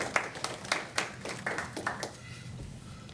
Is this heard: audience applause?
yes